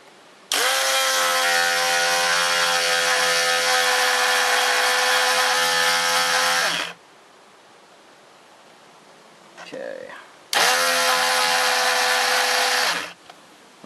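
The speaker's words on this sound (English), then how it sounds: "So this grinder is going to take that right out." A bench grinder sharpens a chainsaw chain, running loud and steady for about six seconds, stopping, then grinding again briefly after a short pause with a faint clunk between.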